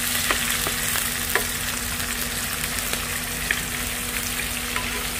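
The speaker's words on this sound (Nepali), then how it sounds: "ल अहिले चाहिँ मैले यहाँ प्याज मजाले खरिँदैछ होइन, मजाले प्याज खरिँदैछ।" Onions fry in very hot oil for a village-style fried fish soup, giving a steady, close sizzle with scattered small pops and crackles throughout.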